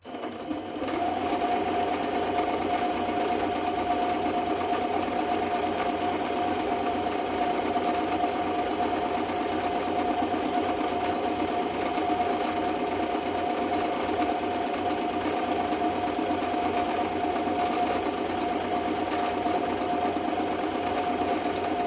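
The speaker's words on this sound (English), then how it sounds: "Now we are taking our sewing machine and sewing all" A sewing machine runs steadily, stitching all around the edge of a paper journaling card, its motor hum and rapid needle chatter continuous and close for the whole stretch with no pauses.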